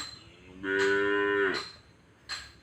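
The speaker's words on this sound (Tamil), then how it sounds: "மாட்டு பசி எடுத்துக்கிச்சான், இங்கே கத்துறாங்க." Hungry cattle on a farm give one long, loud moo near by, followed by quieter shuffling and a short sound at the end; no one speaks.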